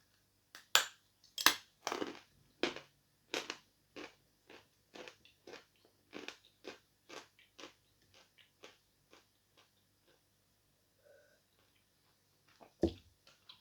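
Sawn chalk bitten and crunched close to the mic, a quiet run of crisp, separate crunches spaced roughly half a second apart. The crunches thin out and stop, then one last bite follows.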